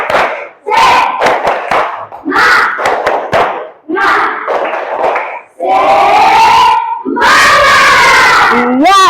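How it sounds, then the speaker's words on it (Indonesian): A school class performing the 'tepuk semangat' spirit clap: bursts of rhythmic group clapping in a set pattern, broken by loud shouted chants from the children, ending in a long cheering yell. "Tepuk semangat."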